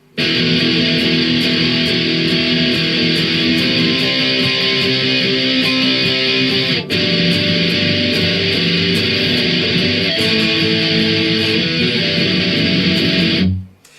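Electric guitar plays the verse part of a song, a loud, continuous strummed passage with sustained chords and a brief dip midway, no voices present.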